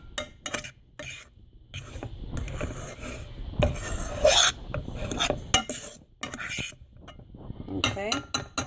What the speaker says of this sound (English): we're gonna take and fluff this up with a fork